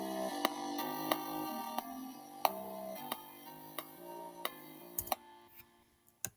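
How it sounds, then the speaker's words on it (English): Jazzy chord progression played on synth presets over a bass line, with sustained chords changing steadily and sharp ticking percussive hits every half second or so. "the chord progression that I've come up with to go along with the bass line sounds like this"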